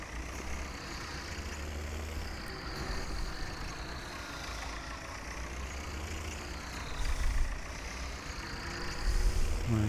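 A tractor engine in the video game Farming Simulator 17, pulling a sprayer on a farm, rumbles at a steady low idle-like drone that swells slightly near the end.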